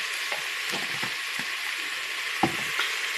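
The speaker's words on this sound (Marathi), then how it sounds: "आता हे मिक्स करून घेते." Rice with salt is stirred in a pan, with faint sizzling under scattered scraping and clinking spoon strokes, close and irregular, without talk.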